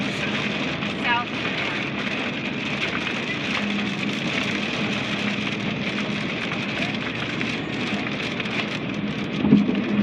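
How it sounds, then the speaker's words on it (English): Heavy rain from a thunderstorm pours steadily and loudly on surfaces close by, a dense continuous roar throughout with a brief louder burst near the end, while people talk over it. "That rain's just crazy."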